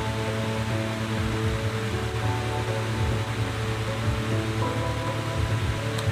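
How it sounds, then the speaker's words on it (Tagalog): An electric fan hums steadily nearby with a constant motor drone and airy whoosh, no other sounds. "malakas yung electric fan"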